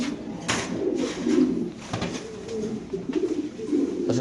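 A yellow Lahori pigeon coos in low, rolling, repeated calls, close and steady, among other birds at a pigeon farm.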